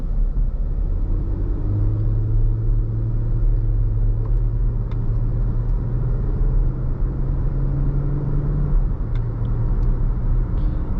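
A 2020 Jeep Grand Cherokee Upland on the move, its engine a steady low rumbling drone with road noise inside the cabin, continuous and fairly loud with gentle shifts in pitch.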